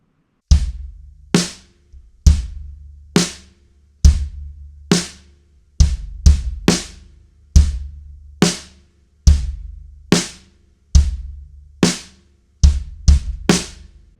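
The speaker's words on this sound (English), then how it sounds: "there is a beat that they open with, a kick and snare beat" At a slower tempo, a drum kit plays a song's kick-and-snare pattern: well-spaced, ringing hits in a steady repeating cycle with a quick double kick at the end of each bar, heard alone.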